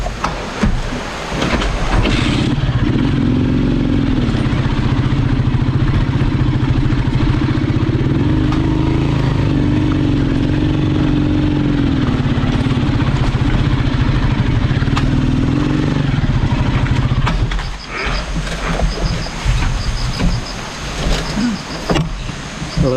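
A motorcycle engine idles steadily on a rural dirt trail near a spring, a loud, continuous rumble with a wavering tone that holds for most of the stretch before cutting out, leaving rough outdoor noise.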